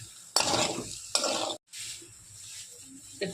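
Chilli and spices being sautéed in a pan for a Bengali taro curry with dried fish, with soft sizzling and several bursts of stirring scrapes, one brief pause midway, the sizzle continuing quietly beneath.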